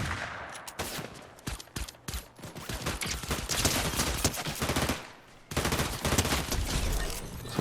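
Dense, rapid gunfire from the video game Fortnite rattles out in sustained bursts, loud and close, with a brief pause near the end before the shooting resumes.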